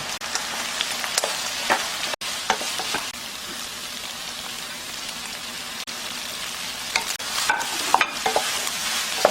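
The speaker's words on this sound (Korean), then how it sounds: "여기에 물을 반 스푼 정도 넣고 이렇게 섞어서 구워주세요" Button mushrooms mixed with a little water and starch are pan-fried and stirred, giving a steady bright sizzle with scraping utensil strokes and occasional clicks, close up with no talk.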